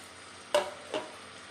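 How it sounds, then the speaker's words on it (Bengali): Ginger-garlic paste hitting a hot pan of fried ground spices, giving two short sizzling bursts a moment apart over a low background hiss, close and fairly quiet. "এবার আমি আদা রসুনের পেস্টটা দিয়ে দিচ্ছি"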